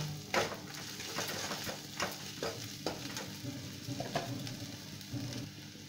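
A spoon stirs coriander powder and other spices in a hot, sizzling pan for stuffed capsicum, with regular scraping strokes over a low fry, fairly quiet and close.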